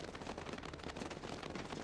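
Machine gun fire in the tactical shooter game Squad, a rapid, dense burst of gunshots heard at close range.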